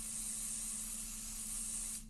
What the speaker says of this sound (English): we're going to do a little pixie spray